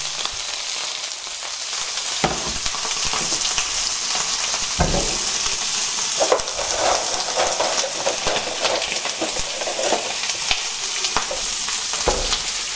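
Two shelled prawns frying in a glowing hot pan, a loud, steady sizzle and crackle with brief sharp spits, close and continuous, with no talking.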